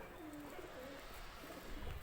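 Pigeons kept as homing birds at a small rooftop loft in Islamabad, soft low cooing in a couple of brief calls, faint and somewhat distant over quiet background noise.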